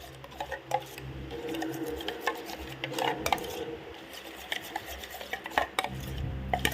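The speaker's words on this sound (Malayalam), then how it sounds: "ഇത് നന്നായിട്ട് മിക്സ് ചെയ്ത് കൊടുക്കുക." A spoon mixes a strawberry face pack with milk in a bowl, giving close, irregular clicks and taps against the bowl over a faint background hum.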